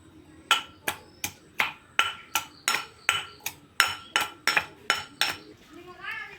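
Onions are pounded with a pestle for a chutney, about fourteen sharp, evenly spaced knocks following one another in a steady rhythm, close and fairly loud.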